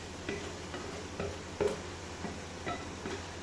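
Keema with onions, tomato and yogurt roasting in a pan, soft low sizzle with a steady run of light scraping stir strokes, close and fairly quiet.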